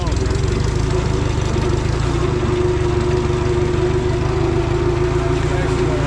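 A farm tractor idles steadily at close range, its low engine drone continuous and even throughout, hauling a load of about 200 gallons up a garden slope.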